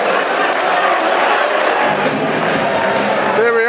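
Football crowd at Millwall's ground roaring and cheering after a 2-1 home win over Stoke City, a dense, steady wash of massed voices throughout, with a voice briefly audible near the end.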